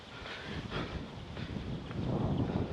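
Wind gusts across a cold morning mountain viewpoint at Doi Kiew Fin, a steady broadband rush buffeting the microphone, swelling slightly toward the end with no speech.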